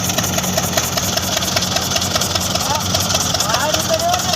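A tractor engine runs steadily at night during groundnut harvesting in the field, a continuous mid-range hum under people talking nearby.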